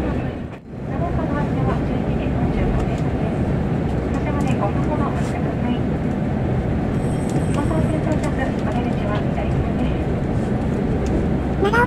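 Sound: Shinetsu Main Line train arriving at Nagaoka

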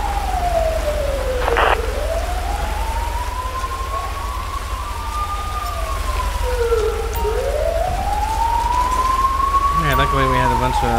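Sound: ambulance siren responding code 3 in GTA V video game

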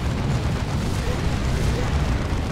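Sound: rocket run explosions in video game Dawn of War 2

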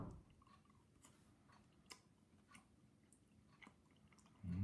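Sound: chewing a big bite of Reapersaurus candy

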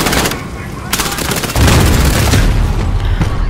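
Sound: grenade explosions in video game Call of Duty: Modern Warfare

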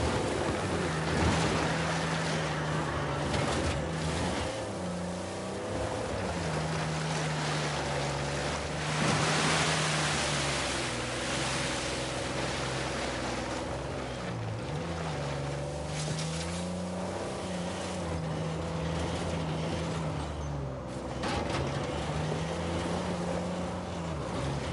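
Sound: waterfall rushing water in Uncharted 4 video game

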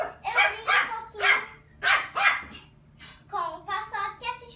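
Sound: small dog barking

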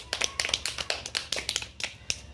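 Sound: audience clapping for the lucky person

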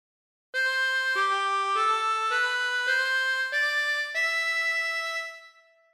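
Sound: harmonica playing a phrase of God Defend New Zealand

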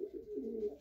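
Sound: pigeon cooing

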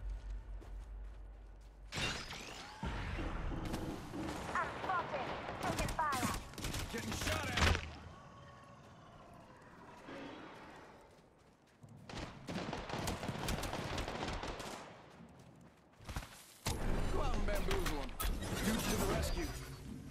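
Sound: gunfire from the video game Apex Legends

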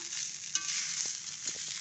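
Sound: frying and stirring green fried rice with petai

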